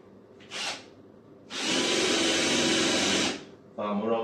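A power drill fitted with a 6.5 mm bit bores marking holes while mounting a tabletop onto an electric desk, a steady loud whine of about two seconds, with brief bursts before and after.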